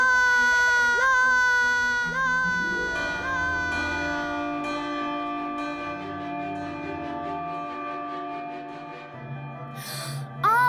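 Bright bell tones ring out to open a winter festival and sustain over layered music and sung voices, with a sharp gasp near the end.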